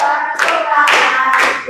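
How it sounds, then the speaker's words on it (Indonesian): Hands clap three times, spaced evenly and loud and close, over a sustained melodic voice. "Tepuk tangan lagi."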